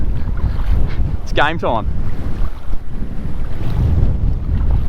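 Strong wind buffets the microphone at a shore at low tide, a constant roaring rumble with gusts, and a brief spoken phrase partway through.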